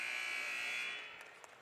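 A gym buzzer sounds at the end of the first half of a high school girls' basketball game, Webb City against Willard: a steady electronic buzz for about a second that then fades into quieter room noise.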